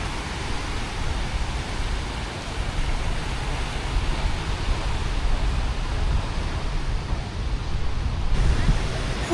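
Gentle waves on a calm sea in Vietnam at sunset, a steady broadband wash of low surf with soft wind over the microphone, continuous and fairly near with no speech.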